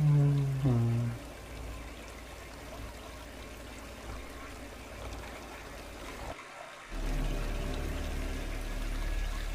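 Water pouring or trickling in a tense, quiet film scene, a steady liquid flow running through most of the stretch, briefly cut off near the end before resuming.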